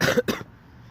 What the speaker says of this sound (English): still got a cough, still got some congestion from the cold